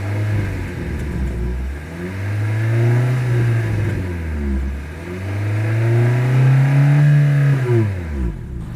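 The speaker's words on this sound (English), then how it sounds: "As always, here is that exhaust clip." A 2026 Hyundai Sonata Hybrid's engine and exhaust rev up and down in several swelling, mid-pitched surges, close and loud, with no talking.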